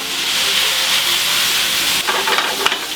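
Spinach sizzles and hisses steadily in a pan with garlic and tomatoes, close and even, with a few stirring scrapes near the end.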